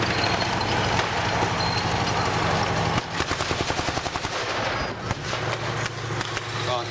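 Dense gunfire at a WWII battle reenactment, with machine guns rattling in rapid strings and rifle shots cracking, steady and loud throughout, mixed with running engines in the background.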